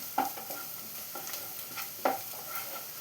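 Crushed ginger and garlic sautéing in a pan for soya cutlet, with a spoon stirring and scraping in a few sharp strokes over a faint, steady sizzle.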